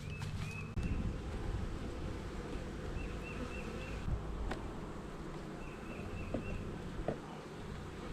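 Honey bees buzz steadily at the hive, a dense continuous drone close by with occasional soft bumps and light wind on the microphone, no voices.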